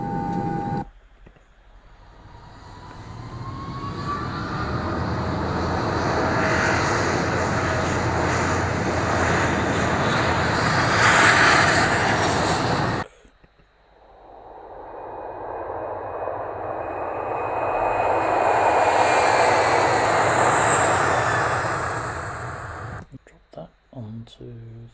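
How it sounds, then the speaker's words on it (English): A fixed-wing airplane engine roars as a sound effect, swelling loud and steady, cutting out briefly, then rising again in a second long pass before fading at the end. "I need the sound of an aeroplane"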